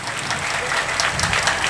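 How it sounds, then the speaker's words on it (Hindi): Audience applause at the Mauniya Baba fair cultural program in Maharajganj, a steady crowd clapping throughout with no speech over it. "तालियां बजाएं"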